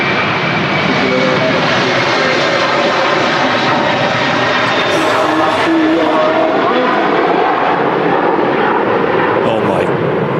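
An airliner taking off at Manchester Airport roars loud and steady throughout, a broad engine rumble heavy enough to shake the floor, with faint voices beneath.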